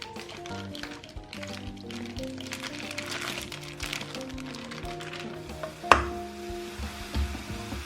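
Kimchi is stir-fried in a pan for kimchi fried rice, with soft sizzling and scraping stirs throughout and a sharp clank of a utensil near the end, close, under a voice speaking Thai.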